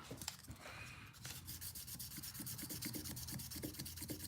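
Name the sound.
sanding a folding knife with 3-in-1 oil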